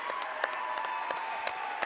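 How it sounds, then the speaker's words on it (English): A school crowd at a wrestling meet applauds its wrestling coach, with steady, dense clapping that carries evenly throughout and rises in a few sharper claps. "I'm going to go ahead and stand up and give him the round of applause, too"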